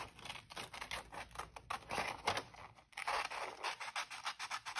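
Scissors cut through paper for an abstract-face art project in a rapid series of close, crisp snips and scraping strokes with short pauses between bursts, with no voice over them.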